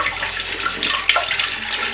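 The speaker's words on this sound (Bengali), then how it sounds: "নিয়ে হাত ধুলাম" Running water splashes over hands being washed at a kitchen sink after mashing radish greens, a steady close rush with small bursts of splatter and no talking.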